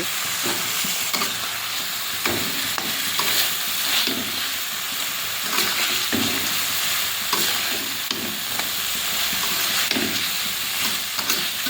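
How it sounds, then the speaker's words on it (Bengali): Pabda fish being stirred into a spiced mustard masala in a pan, with a steady loud sizzle and hiss and periodic scraping and stirring strokes throughout. "এবারে পাবদা মাছগুলো দিয়ে দেবো, দিয়ে একটু নাড়াচাড়া করে জল দিয়ে দেবো"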